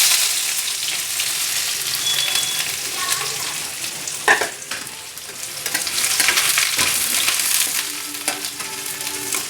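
Finely chopped onion fries in a pan with spices including cloves, cinnamon and bay leaves, a loud continuous sizzle broken by a few sharp spatula scrapes and stirs.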